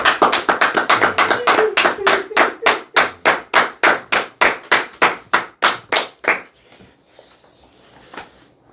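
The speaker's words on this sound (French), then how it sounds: "Applaudissons pour le Seigneur." Congregation clapping in rhythm during a church service, loud regular synchronized claps in a steady beat for about six seconds, then stopping into quieter room sound.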